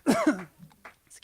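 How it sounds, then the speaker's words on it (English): A performer at a live spoken-word poetry event gives a short cough followed by a brief throat clear, close and fairly loud, with a few faint rustles after. "Making myself cough up here."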